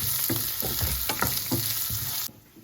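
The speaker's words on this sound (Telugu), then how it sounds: "అండ్ ఇప్పుడు కొంచెం వేగిన తర్వాత ఆనియన్స్ అనేది వేసేద్దాం. సో ఇది కొంచెం బాగా వేగాలి." Seasoning fries in a hot pan before onions go in, with a close, bright sizzle and rhythmic scraping stirs, until the sizzle suddenly drops away at the end.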